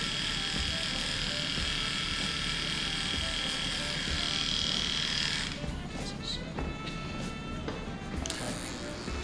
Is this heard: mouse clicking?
no